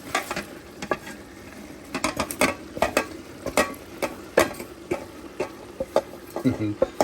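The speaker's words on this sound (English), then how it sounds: "when it's kind of frying like this, in with your veggies, close the lid on it." Vegetables and lamb off-cuts sizzle and are stirred in a pan, with sharp scraping clacks of a utensil in an irregular rhythm and no talk.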